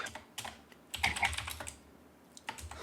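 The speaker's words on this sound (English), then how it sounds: "I'm gonna put in the password 1, 2, 3, 4." Someone enters a password on a computer keyboard during a Mobile Legends session, producing a run of clicky keystrokes that speed into a dense burst, then a pause and a few final taps, close and clear, with no talk.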